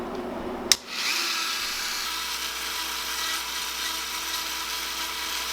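A rotary tool with a 1/16 inch bit carving a fishing lure starts with a sharp click, then holds a continuous close, high whine.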